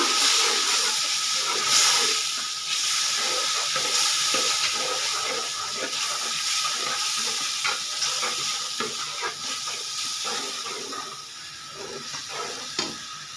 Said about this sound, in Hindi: ये अपना लगा तड़का